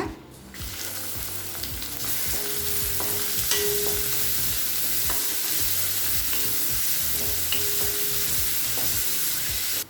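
Two large finely chopped onions sizzle and crackle loudly in a hot pan with fennel seeds, with occasional stirring scrapes over a steady frying hiss.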